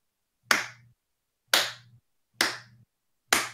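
Four sharp, separate hand claps land about a second apart in a slow, deliberate rhythm, each close and crisp with a short decay and silence between them.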